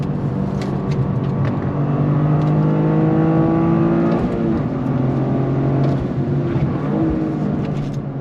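A 2023 Toyota GR Corolla engine revs loudly and continuously from inside the car, with rising and falling pitch sweeps as automatic rev-matched downshifts blip the throttle, and no speech.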